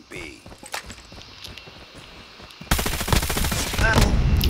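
CX-9 submachine gun fire in a first-person shooter video game, quiet footsteps and taps giving way to loud, rapid automatic bursts, with a voice talking early on.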